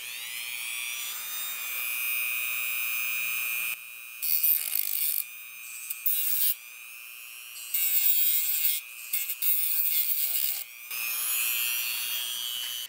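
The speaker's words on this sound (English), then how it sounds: "I'm also going to get the Dremel tool and flatten this down" A Dremel wheel grinding flat a cast-in, round-topped ground lug on a Willsenton R8 amplifier chassis. A high, thin whine spins steadily, then harsh grinding bursts come in repeated stretches as the wheel bites the metal, close up, with no voices.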